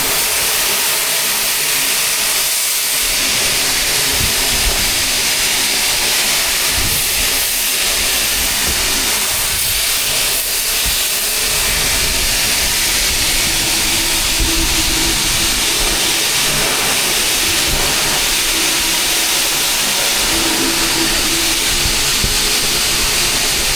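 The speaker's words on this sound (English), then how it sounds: "So I'm gonna try and pressure wash this and then haul it up to the shed." A pressure washer sprays out a farm planter that has been unhooked from the tractor, a loud, continuous broadband hiss of water jetting that stays steady and close throughout, with a low rumble beneath.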